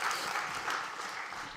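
An audience at an education conference session applauds, a dense, soft wash of many hands clapping at a distance with no voices over it, steady through the short stretch.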